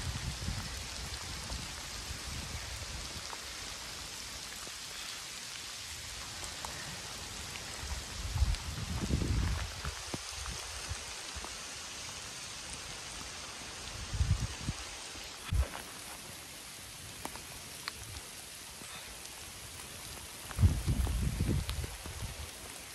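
A torrential rainstorm pours outdoors, a soft, steady hiss of rain on surfaces with occasional louder gusts and low rumbling bursts swelling and fading across the stretch, with no one speaking.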